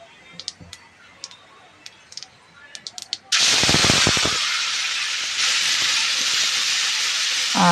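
Dried red chillies and cumin seeds drop into hot oil for tempering, setting off a sudden loud, steady hiss and sizzle that holds strong after a few faint clicks and taps.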